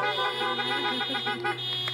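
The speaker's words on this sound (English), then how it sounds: "If you say amen, honk your horns for that one." Several car horns sound together in a church parking lot during a drive-in service, a sustained, overlapping blare of steady tones that holds for about two seconds.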